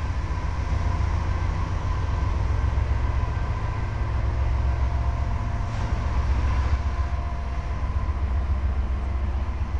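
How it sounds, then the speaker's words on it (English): A mixed freight train passes on the former Norfolk and Western main line at Roanoke, Virginia, with a steady low rumble and rolling wheel noise that hold constant for about ten seconds at moderate distance. "We got a mixed freight."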